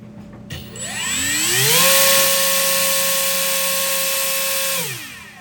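An RC motor spins an 8.5-inch, 75% 3D printed three-bladed folding propeller, a loud steady whine that ramps up quickly, holds at high speed for several seconds, then winds down and stops.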